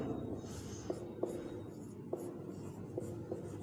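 Pen or chalk writing short notes, with faint scratches and a few light taps on a board or paper against steady background hiss, soft and close.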